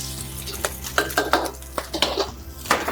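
Green onions going into hot oil in a pan with fried egg for fried rice, a steady sizzle under repeated scraping and clinking of a utensil against the pan.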